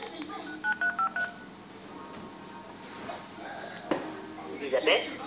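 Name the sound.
telephone keypad dialing tones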